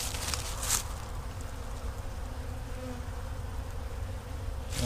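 Honey bees drone in a dense, continuous buzz around an opened hive during a brood box reversal, steady and close, with no talking.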